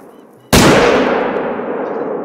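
A single rifle shot rings out in the hunting game The Hunter Call of the Wild while hunting buffalo in Patagonia, a sudden loud crack followed by a long rolling echo that fades slowly.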